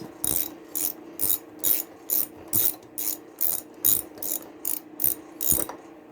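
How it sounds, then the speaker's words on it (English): A ratchet fitted with a 13/16 magnetic spark plug socket backs out a lawnmower spark plug, giving about a dozen crisp, close clicking bursts in a regular back-and-forth rhythm, with no talk. "Let's get rid of the spark plug. I think it's 3/4. Nope, 13/16. I've got my magnetic spark plug socket, 13/16."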